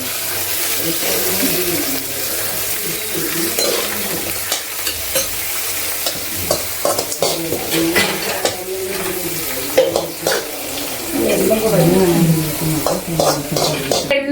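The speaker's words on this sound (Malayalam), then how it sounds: "അതിന്റെ പുറത്ത് പിന്നെ കുറച്ച് എള്ളും കൂടെ വറുക്കുകയാണ് കേട്ടോ" Black sesame seeds and cashews frying in a pan at home, a loud continuous sizzle with frequent scraping stirs and light crackles of popping seeds, close and unbroken.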